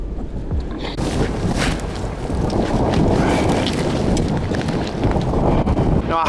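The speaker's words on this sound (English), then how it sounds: "The wind is blowing at 40 to 50 mile an hour" Strong 40 to 50 mph hurricane wind roars and buffets a microphone near the water while fishing, a loud continuous rushing that swamps everything else.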